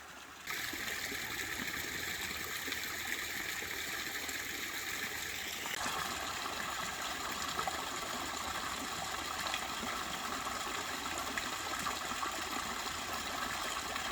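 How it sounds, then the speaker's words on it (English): A waterfall at Natural Bridge State Park, Virginia, rushes steadily, a constant broad roar of falling water that stays even from start to finish. "I think we found the waterfall though."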